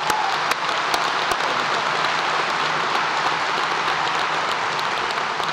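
An audience applauds steadily as a guest speaker is welcomed to the podium at a formal evening event, a dense, sustained wash of clapping from a large crowd with no speech.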